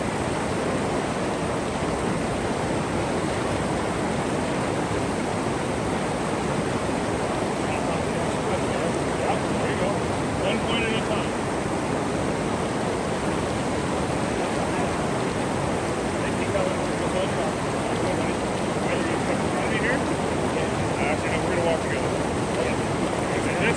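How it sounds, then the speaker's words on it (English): A fast-flowing mountain river beside an overgrown hiking trail roars in a continuous, loud, even rush of water for the whole stretch, with only faint hints of other sounds on top. "Coming down to the river again."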